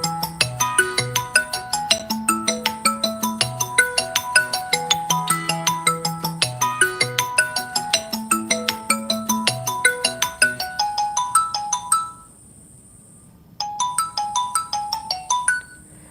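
A mobile phone ringtone plays alone as a loud, looping electronic melody with a steady repeating rhythm, pausing briefly before starting again.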